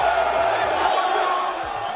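A fight press-conference crowd before a UFC event cheers and roars, a loud sustained wash of many voices with whoops rising and falling under a nearby voice.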